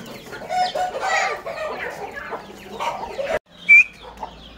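A partridge calls angrily in harsh, rapid bursts amid a fight with aseel chickens, the clucking chatter ending with a brief, sharp high squeak.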